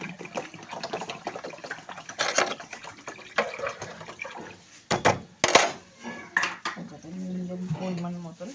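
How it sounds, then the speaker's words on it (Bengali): Water goes into a cooking pot in a home kitchen, with clattering pots and utensils first, then a steady pouring and filling sound near the end, close and moderately loud. "জল দেবো"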